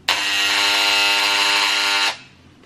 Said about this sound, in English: these are like some old clippers that we found here at the house